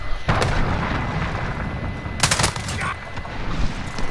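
A cruise missile strike in Call of Duty Modern Warfare lands as a series of loud, rumbling blasts with sharp cracking bursts, heavy low-end thunder under gunfire-like pops, dense and continuous throughout.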